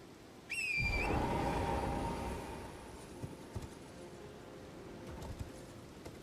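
In Elden Ring Shadow of the Erdtree, a sharp whistle summons a horse, then hooves clip-clop in an uneven gallop at moderate loudness, fading to scattered footfalls.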